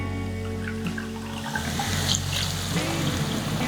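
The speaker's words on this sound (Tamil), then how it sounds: "இப்போ நம்ம தண்ணி விட்டுக்கலாம்." Water poured from a vessel into a cooking pot of vegetables for little millet khichdi, a steady close pour that swells and gurgles as the pot fills.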